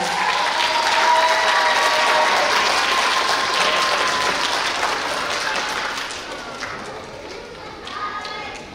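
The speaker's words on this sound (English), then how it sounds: "let's give kindergarten a round of applause." A school assembly crowd applauds kindergarten students: dense, steady clapping from many people fills the room, then thins and fades toward the end.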